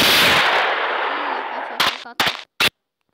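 Gunfire in a zombie shooter video game: a long blast rings out and decays, then three short sharp shots crack out in quick succession, loud and close, without talk.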